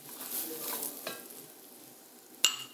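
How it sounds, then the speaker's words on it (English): Sliced onions, carrots and sweet pepper frying in oil, a soft, quiet sizzle with faint stirring and one sharp clink of a utensil against the pan near the end. "So I'm just going to fry these together."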